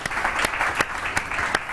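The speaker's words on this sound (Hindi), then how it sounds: "तालियां हो जाएं जरा।" Studio audience applause on an Iftar television transmission: a brief burst of clapping with a few sharp, distinct claps standing out over the steady patter, moderately loud and without speech.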